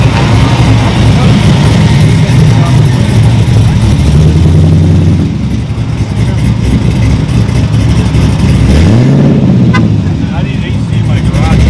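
A loud, deep V8 engine in a Nissan 240 with an LS swap idles and revs at a cars and coffee meet, the pitch rising and falling in a couple of throttle blips, with people talking in the background.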